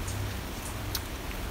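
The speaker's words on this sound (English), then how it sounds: "It is pouring rain" Steady pouring rain falling in Los Angeles, a dense, even hiss of drops that runs without a break and has a few sharper patters on top.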